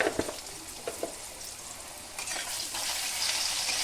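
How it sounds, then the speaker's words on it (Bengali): Potato pieces frying in oil with turmeric, a soft steady sizzle with a few light stirring knocks early on, the hiss growing a little louder toward the end. "এই তেলের ভেতরেই আলু কটাও আমি ভেজে নেব সামান্য পরিমাণে হলুদ দিয়ে"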